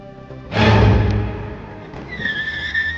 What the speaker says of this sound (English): The officer's patrol car peeled out of the driveway as they rounded the corner at the front of the house.